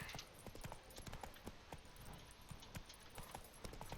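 Roach the horse trots in Witcher 3 Blood and Wine, giving a steady, rhythmic clip-clop of hooves that is quiet and continuous, with no talk.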